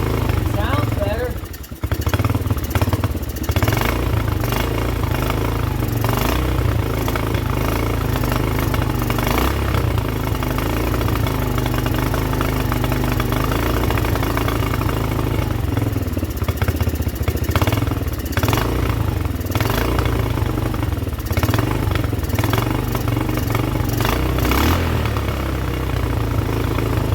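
A revived pit bike engine runs roughly with a choke engaged, surging and stumbling instead of settling into an idle, loud and close with mechanical clatter throughout.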